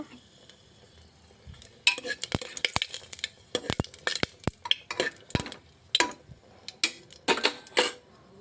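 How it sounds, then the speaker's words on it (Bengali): Dried red chillies and bay leaves fry together in a pan for a khichuri dinner, with a spoon scraping and clinking against the metal in irregular bursts over a soft, steady sizzle, close and fairly loud. "শুকনো লঙ্কা, তেজপাতা একসঙ্গে ভেজে নেব।"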